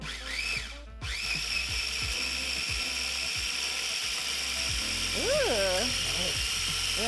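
A kitchen blender whirs loudly and steadily through nearly the whole stretch, chopping parsley and portobello mushroom dressing ingredients, after a short pause near the start; a voice speaks over the motor toward the end.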